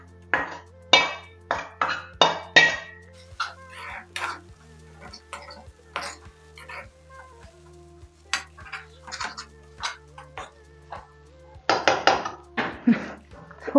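A utensil stirs an egg mixture in a pan for a healthy diet recipe, giving steady, rhythmic clinks and scrapes with occasional quicker clusters of taps, close and fairly clear.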